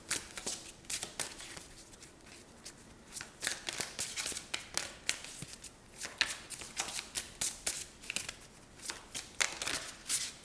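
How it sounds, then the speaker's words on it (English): A deck of tarot cards is shuffled by hand during a card reading, giving soft, repeated riffling bursts close up at a low volume, with no one talking. "we're just gonna shuffle a little bit more, maybe get one more card"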